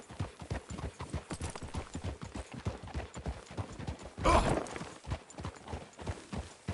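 Horse hooves clip-clop in a brisk, steady rhythm in the video game Red Dead Redemption 2, with a short snort or whinny partway through.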